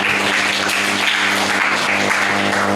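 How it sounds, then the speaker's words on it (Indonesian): Applause from an audience at a religious moderation podcast event at MAN 2 Kota Kediri, a dense, steady wash of many hands clapping for nearly three seconds, loud and continuous with a faint low hum underneath. "Tepuk tangan untuk kita semuanya."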